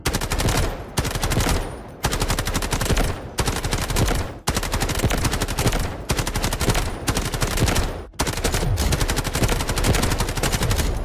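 Rapid automatic fire from the CL19 assault rifle in the Delta Force video game comes as loud sustained bursts, separated by brief pauses about every two seconds, with no talking.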